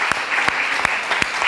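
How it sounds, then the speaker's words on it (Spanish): A church congregation applauds during a worship service, filling the space with dense, steady clapping and regular stronger claps standing out in a loose rhythm, with no voices on top. "Dale un aplauso al Señor"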